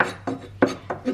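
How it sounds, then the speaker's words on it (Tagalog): Sweet paprika being finely chopped with a knife on a wooden board, four distinct close chops in an even rhythm over a quiet background. "So i-chop lang natin very fine yung habulan ng kutsilyo ko, yung sweet paprika, fine chop."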